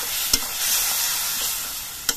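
Spice powders fry in a pan with a splash of water, a loud close sizzle with two sharp spoon knocks against the pan, no talking.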